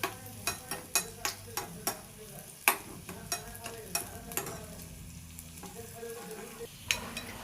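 Ginger roasting in a pan gives a quiet, soft sizzle, punctuated by a steady run of sharp spatula scrapes and taps as it is stirred.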